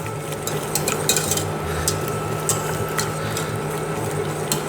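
A spoon scrapes and clinks around a pan as brown sugar is stirred into melted butter, steady close scraping with light metallic taps and no talking.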